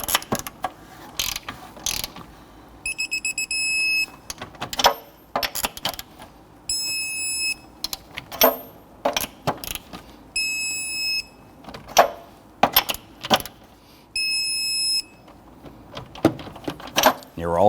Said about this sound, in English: Let's now go ahead and torque down our lug nuts to 94 foot-pounds.